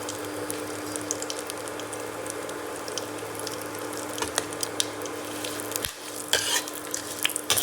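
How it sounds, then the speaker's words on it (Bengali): Whole garam masala and dry red chilli fry in hot oil in a pan for dalia khichdi, a soft steady sizzle with light scraping stirs. It is close and continuous with no talking. "এরপর আমরা এটা একটু হালকা নেড়ে নেব।"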